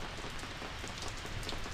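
Rain falls near a lighthouse in Ilocos Norte, a close, steady patter on surfaces with scattered distinct droplets and no voices.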